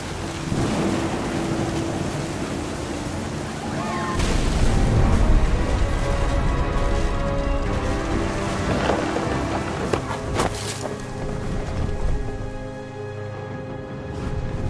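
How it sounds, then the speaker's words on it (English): Thunderstorm in the video game What Remains of Edith Finch: steady loud rain and wind roar throughout, swelling into a deep rumble of thunder midway, with no talking. "The thunder sounded much too close and full of angry power."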